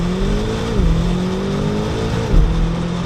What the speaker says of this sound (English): You stop here, left foot on the brake, right foot on the throttle. It says launch control active, and pow!